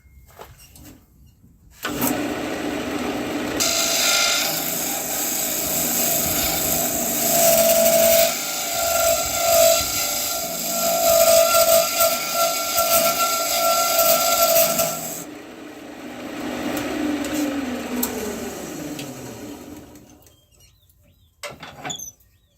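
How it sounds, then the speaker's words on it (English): A scraper cuts a segmented cherry wood vessel spinning on a wood lathe, giving a loud, sustained scraping whine with a tonal hum that runs for more than ten seconds, then fades into quieter passes and stops. "I'm going to use a around those scrapers to kind of follow that curve"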